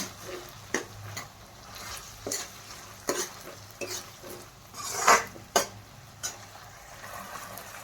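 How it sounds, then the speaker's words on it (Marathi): Soy sauce poured into veg manchurian frying in a pan, heard as a soft sizzle with utensil scrapes and clinks against the metal, a sharper burst of sizzling midway, no voices. "आता मी सोया सॉस टाकणार आहे एक ते दीड चमचा"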